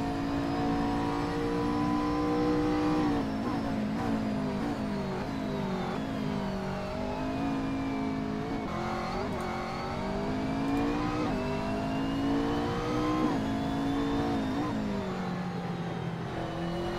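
Race car at Laguna Seca in a simGT racing sim series, engine droning continuously with rising and falling pitch through shifts and corners, bouncing near the rev limiter, steady and fairly loud with no voices.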